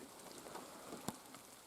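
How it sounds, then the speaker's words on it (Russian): Heavy cold autumn downpour outside in the taiga, a faint steady patter of rain with one brief sharper drip or tap near the end, no voices. "у нас на улице ливневые дожди,"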